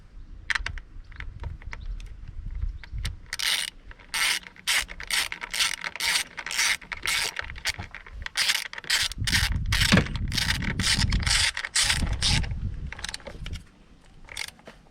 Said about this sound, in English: just stick this ignition coil back in, and then do up ignition coil,